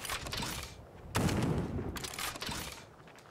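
Gunfire in the action RPG Death Trash, rapid bursts of shots in fast volleys separated by brief pauses, fairly loud and close, with no speech.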